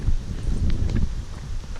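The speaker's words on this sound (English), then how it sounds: "It's pretty windy out here today." Steady wind gusting off a lake across an outdoor disc golf course in the Ozarks at Lake Fayetteville, Arkansas, heard as a continuous low rumbling buffet against the microphone with light rustling and no talking.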